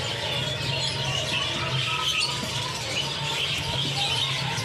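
Caged birds for sale at Pramuka bird market call over a busy background hum, with scattered chirps, tweets and soft coos mixing at moderate distance and no clear talk.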